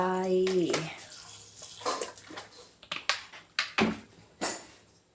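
Fish sauce poured into a Thai salad of fish sausage and glass noodles gives a liquid splashing and trickling, followed by several sharp clattering clicks of kitchenware, close by, with a brief voice at the start.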